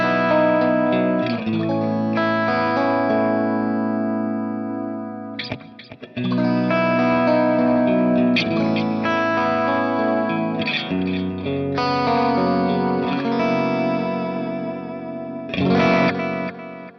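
Overdriven Suhr Classic Antique electric guitar with a thick, saturated tone and shimmering modulation, chords and notes ringing steadily, with brief gaps near the middle and end.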